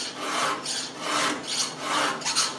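A hand file rasps across a chainsaw chain clamped in a vise, in steady back-and-forth strokes, each a close, rough scraping rub repeating about every half second with no talking.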